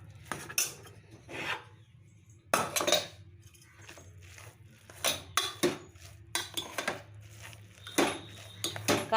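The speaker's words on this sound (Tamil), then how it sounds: "இதை நல்லா இப்படி குழச்சி விட்டுட்டு" Metal spoon scraping and clinking against a pot while cooked pepper samba pongal is mixed, a run of close, irregular scrapes and knocks with brief quiet gaps between strokes.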